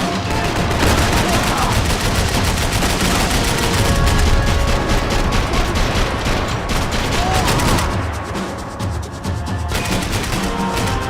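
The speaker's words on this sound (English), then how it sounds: "I can't concentrate with bullets whizzing past my head!" Dense gunfire in the video game Max Payne 3, rapid bursts of automatic shots and booming reports rolling almost continuously, easing slightly toward the end, with some voice under the battle.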